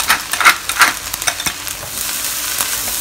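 Chicken and salted fish fried rice stir-fried in a wok, with repeated scraping and tossing strokes over a steady close sizzle, the stirring bursts coming in quick irregular clusters before settling into continuous frying hiss.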